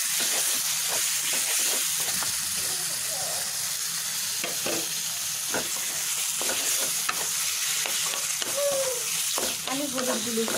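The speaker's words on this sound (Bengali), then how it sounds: "এবার এটাকে ভালোভাবে নেড়ে মিশিয়ে দেব।" Flat bean and papaya mash cooks in a hot pan while a spoon stirs and scrapes it repeatedly, the scrapes knocking in an irregular rhythm over a continuous close sizzle.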